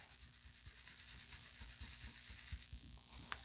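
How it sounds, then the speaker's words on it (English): A sponge rubbing ink onto a rubber paper-crafting stamp in repeated short scrubbing strokes, soft and close, with a faint tap near the end and no voices. "So I turn the sponge around to the clean part and kind of rubbing a little bit of this off and get it in there good."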